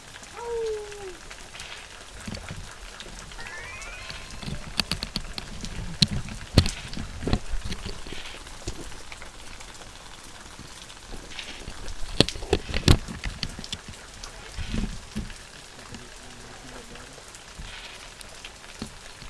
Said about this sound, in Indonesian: Nah seperti ini kalau hujan di Lebak Kidul atau Lebak Cideng.